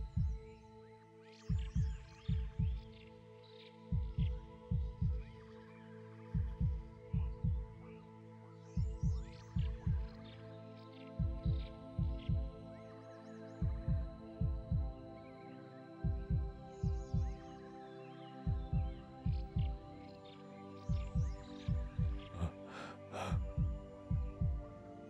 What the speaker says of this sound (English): I feel their heart beating more strongly now.